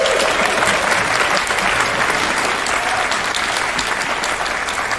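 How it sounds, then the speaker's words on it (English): Audience applause at a live podcast show at the Woodford Folk Festival, a full, sustained wash of clapping from a large crowd, even and loud throughout. "A big round of applause, please,"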